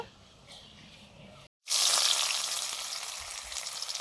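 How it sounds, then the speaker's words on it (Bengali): Potatoes frying in hot mustard oil for chicken biryani, a faint sizzle that cuts out briefly, then a loud hissing surge as they hit the oil, settling into a steady close crackle. "সর্ষের তেল দিলাম, বেরেস্তা ভাজা হয়ে গেছে। এবারে আলুগুলো ভেজে নেব।"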